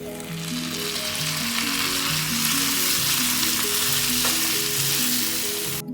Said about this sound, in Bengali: এবার এতে দিয়ে দেবো 3টে মিডিয়াম সাইজের কেটে রাখা টমেটো